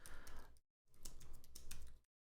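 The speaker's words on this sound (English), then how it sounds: "then you can just start typing whatever it is." Fingers tap rapidly on a computer keyboard, a faint run of quick clicking keystrokes in two short bursts separated by brief silences.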